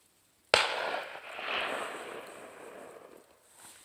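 A single rifle shot fired at a deer during a Utah hunt cracks sharply after a brief near-silence, then rolls off into a long fading echo across open terrain.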